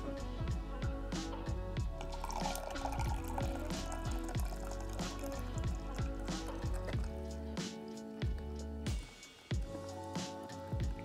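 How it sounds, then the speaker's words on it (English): Water is dumped out of an MSR Titan kettle while backpacking, giving a run of splashing, dripping pours with wet squishy spatters, fairly quiet and close, with no talking over it. "I'm gonna dump out all the water"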